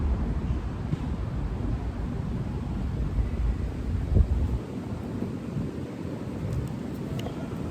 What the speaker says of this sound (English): Oh dear, a bit windy.